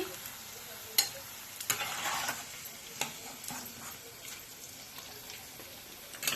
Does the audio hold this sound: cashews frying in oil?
yes